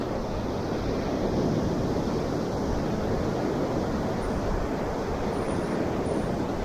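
Waves break and wash up on the beach at Puerto Viejo in a continuous broad roar, with wind buffeting the microphone throughout and no voices.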